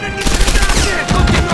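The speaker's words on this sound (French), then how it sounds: "Ah, c'est du fusil ça." Rifle fire in Medal of Honor Airborne, loud close cracking shots in quick irregular succession mixed with battle noise.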